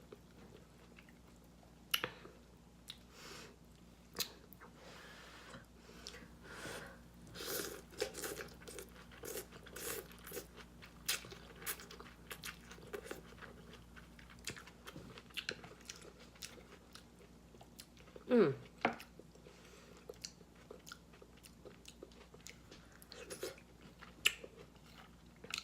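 Crunchy chewing and biting on a bowl of vegan leftovers soup with bell peppers, close and intermittent, with a louder crunchy bite partway through and no talking.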